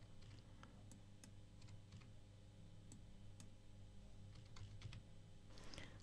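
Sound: typing values into input boxes on a computer keyboard

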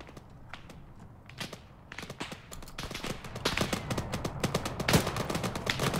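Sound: gunfire in video game ARMA 3

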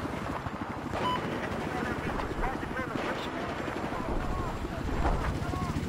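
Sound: helicopter in a video game (Squad)

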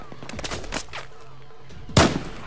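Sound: gunshot in the video game Battlefield 4

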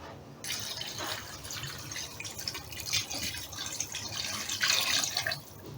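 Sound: water poured over pork shoulder stew in pot

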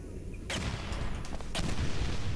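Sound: gunfire shooting at the player in video game Portal 2

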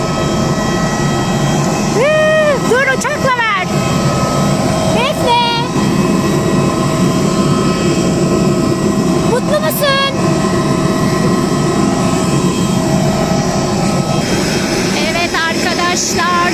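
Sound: airplane jet engine at airport

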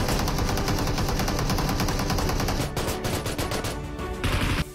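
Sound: gunfire in the PUBG video game

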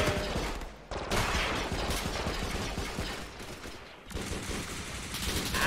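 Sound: gunfire from a sci-fi video game modpack weapon

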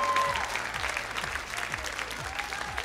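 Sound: audience applause

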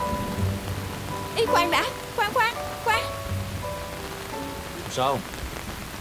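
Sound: rain

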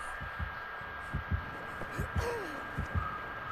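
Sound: heartbeat warning from the killer in Dead by Daylight video game

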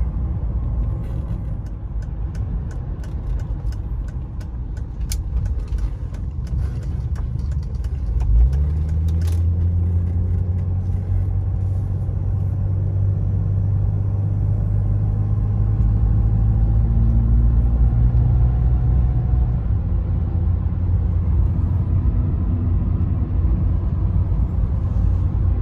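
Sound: 1993 Mercedes-Benz 300E W124 driving, cabin ride noise

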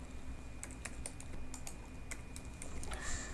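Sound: typing on a computer keyboard

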